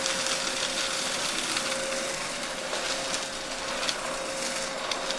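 An IWOLY C150 cordless vacuum cleaner runs on max mode over textured carpet, giving a steady loud whirring drone with a constant tone and faint scraping bursts, close and alone.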